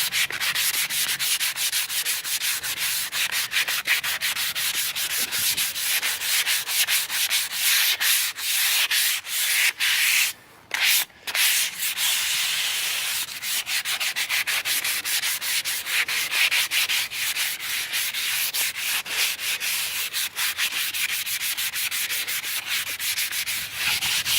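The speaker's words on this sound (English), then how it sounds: "Sand some of this stuff down." Rusty metal on a kids' swing is sanded by hand, a loud, continuous rough rasping of sandpaper strokes that pauses briefly near the middle and then resumes steadily.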